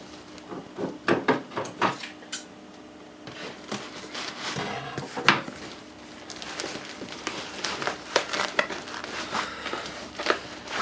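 Scissors cut right through a cardboard box sent from the Flying Scotsman, producing a close, irregular run of crunching snips, crinkles and scrapes that come in uneven clusters with brief pauses between them.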